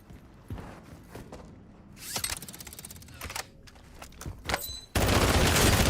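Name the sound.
gunfire in a video game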